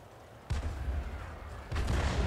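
Hummel self-propelled artillery in a tank game fires a shell: two heavy low booms, the second louder, each with a broad rumbling tail over faint background noise.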